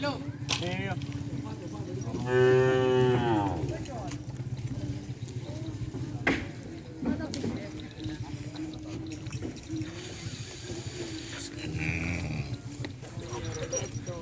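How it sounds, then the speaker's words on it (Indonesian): A low cattle bellow rises briefly out of a noisy outdoor crowd at a field where pairs of racing cattle practise, with people chattering and talking in the background. "Ini sapinya teman-teman, bakalan super."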